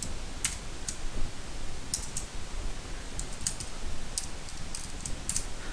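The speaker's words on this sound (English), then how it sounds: "So let me retype" Typing HTML code on a computer keyboard: quick, light key clicks in small irregular clusters, close and fairly quiet over a faint background hiss.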